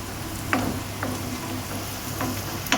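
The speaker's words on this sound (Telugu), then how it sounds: "వెంటనే టమాటా ముక్కలు వేసేద్దాం" Tomato pieces frying in a pan for chutney, a soft continuous sizzle punctuated by a few sharp clinks from stirring.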